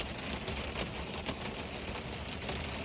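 Heavy rain falling outdoors in the wilderness, a steady, dense broadband hiss that holds at an even level throughout, with no voices.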